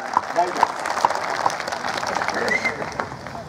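An audience at a live talk claps steadily, a dense patter of many hands heard at moderate distance, mixed with a voice speaking over it.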